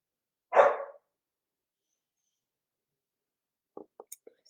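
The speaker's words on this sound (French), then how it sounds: "Léo, Léo, pendant les directs, on jappe pas" Léo the dog gives one short bark near the start, followed by a few faint clicks and taps after a pause of silence.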